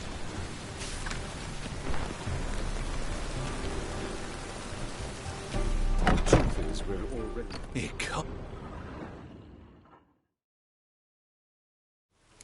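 Continuous rain in the video game The Witcher 3: Wild Hunt on PS4 patters heavily with low rumbling beneath and a voice speaking over it, then the sound abruptly cuts to silence near the end.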